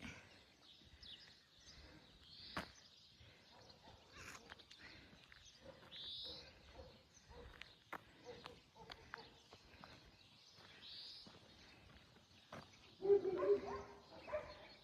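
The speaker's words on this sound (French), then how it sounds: "Ah, on réveille tous les chiens du quartier," Dogs bark across a village neighborhood in the early morning, distant and faint at first, with scattered barks breaking out and louder ones close by near the end, against quiet outdoor background sounds.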